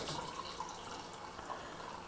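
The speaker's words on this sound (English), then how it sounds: "I'm just going to pour myself a Franziskaner from the machine." Franziskaner wheat beer pouring from a Perfect Draft home tap machine into a glass, a soft steady liquid rush and fizz heard close and fairly quiet throughout.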